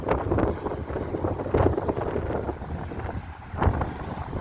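Outdoor wind buffets the microphone in a steady, rough rumble, swelling into stronger gusts twice along the way, with no voices.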